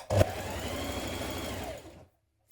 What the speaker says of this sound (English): Stitch inside the seam line down the side here where your pocket meets the edge.